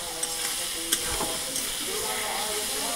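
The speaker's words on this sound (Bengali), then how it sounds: "আলু দিয়ে ভালো করে নাড়াচাড়া করব" Potatoes sizzle steadily in hot oil with spices while being stirred, a loud continuous frying hiss close by, broken by a few scraping knocks of the spoon against the pan.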